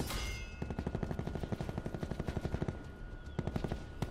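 Rapid automatic gunfire in a Prop Hunt video game match, a dense rattling burst of shots running nearly continuously for about two and a half seconds, then a short pause and a second loud volley at the end.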